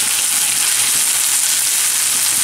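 Ginger, garlic and tomato sauté loudly in a pan for a tawa fry, a dense, steady sizzle with faint stirring scrapes and no talk.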